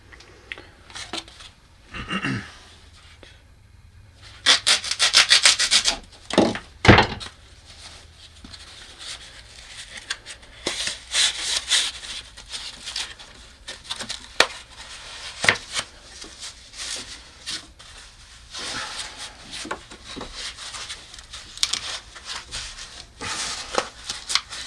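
Fiberglass insulation is pushed and stuffed into a kitchen wall cavity during a remodel, with close, crinkly rustling and scratchy brushing bursts that come and go.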